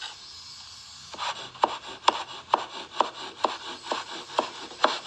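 Knife blade striking a wooden cutting board spread with a thin layer of flour, about ten evenly spaced, crisp chopping taps in a steady rhythm, close and fairly loud, no talking.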